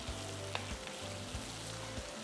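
Tomatoes sizzle steadily in a hot pan, a constant crackling fry with faint low hum underneath and a couple of light clinks.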